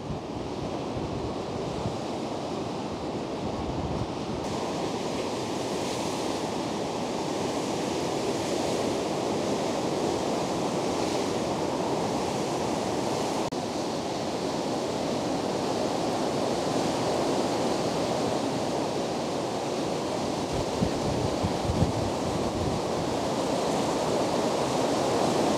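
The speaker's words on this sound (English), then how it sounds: "the waves are now crashing over from where they were earlier this morning" Storm surf crashes over Crystal Beach in a constant, roaring wash of water mixed with gusting wind noise. It stays loud and unbroken throughout with no voices.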